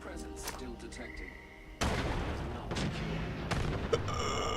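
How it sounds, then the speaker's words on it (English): Gunfire in Fallout 76 played in permadeath mode: sharp shot bursts with a loud boom near two seconds and more reports later, over steady game noise. "He's taking shots, but at who?"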